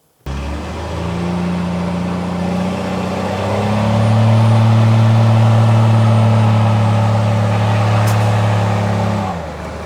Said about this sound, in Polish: odpalamy wóz i jedziemy